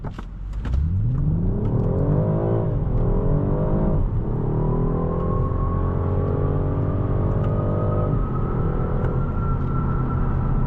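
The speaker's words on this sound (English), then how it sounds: "Yeah, you guys can see how fast this car is." A 2026 BMW 550e xDrive sedan's engine revs hard and climbs through several gear changes, the rising drone loud and close inside the cabin, settling into a steady high cruise.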